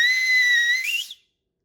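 A loud homemade whistle gives one sustained, piercing blast for just over a second. Its pitch bends upward near the end before it cuts off sharply into silence.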